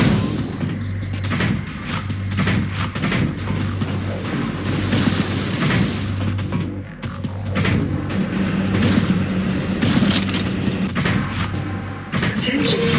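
Heavy gunfire and booming blasts from Unreal Tournament III keep up a dense, loud barrage throughout, mixed with mechanical clanks and a low steady hum, while voices talk over the action.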